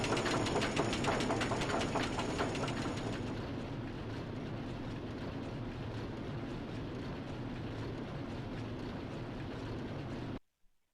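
A Vekoma tilt roller coaster in RollerCoaster Tycoon 3 roars along its track in a steady, loud rumble that grows slightly darker after the opening seconds, then cuts off abruptly.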